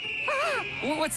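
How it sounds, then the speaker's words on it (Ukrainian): Cartoon bird call: two warbling, wavering whistled chirps with a sliding pitch, bright and close, standing alone over a faint steady tone. "Ось птах."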